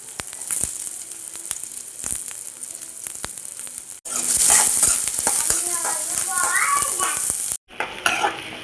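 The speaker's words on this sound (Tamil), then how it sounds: "இப்போ நான் வந்து வெங்காயம் நல்லா பொன்னிறம் வர வரைக்கும் வதக்கணும்." Onions sauté in hot oil until golden, giving a continuous close sizzle broken by scraping stirs, which swells louder midway with brief pauses.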